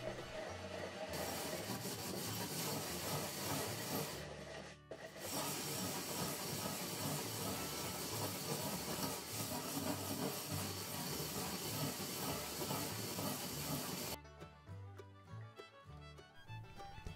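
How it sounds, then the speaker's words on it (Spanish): Glass bottle edge rubbed repeatedly in circles over wet coarse-grit sandpaper, a steady close abrasive hiss and rasp that runs almost continuously, briefly pausing, then thinning to lighter scraping near the end. "humedeciendo la lija de grano grueso y pasamos el borde de la botella de forma repetida por encima, con movimientos circulares"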